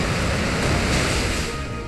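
Rushing wave sound effect of the Surf move in a Pokémon Omega Ruby/Alpha Sapphire battle: a loud, dense, steady whoosh of surf that holds for about two seconds and eases slightly at the end.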